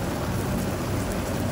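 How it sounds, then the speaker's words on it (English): A rain sound effect plays as a dense, even hiss of falling rain, steady and fairly loud throughout the short stretch with no talking. "when you see rain"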